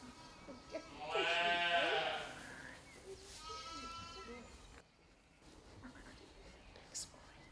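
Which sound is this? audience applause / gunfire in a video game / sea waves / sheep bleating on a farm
sheep bleating on a farm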